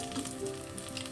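Whole spices such as cinnamon, cloves, cardamom, fennel, bay leaves and star anise frying in oil in a pan for a Kerala chicken curry, a soft, steady sizzle with light crackling, close and quiet.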